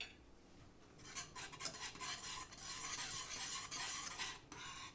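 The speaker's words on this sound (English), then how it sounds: "Mix well, all ingredients are together." A spoon stirs kadhi ingredients with asafoetida in a pot, a steady close scraping and swishing that continues without talk.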